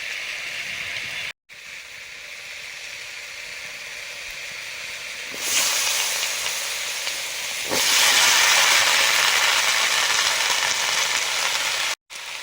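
Panch phoron and dried red chili crackle in hot mustard oil, a steady loud hiss and sizzle that swells sharply twice as more spices hit the pan, with no voices.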